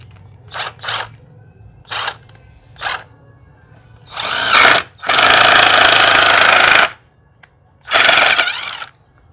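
Used Japanese cordless drill with a weak battery, run in hammer mode: several short trigger bursts, then longer loud rattling runs, each cutting off abruptly into quiet.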